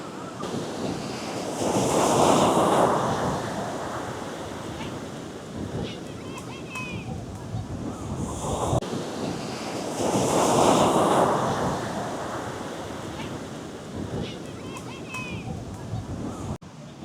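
Ocean waves breaking on the beach at Puri, two big surges of surf rolling in and receding amid wind rumble, with a person speaking over the wash.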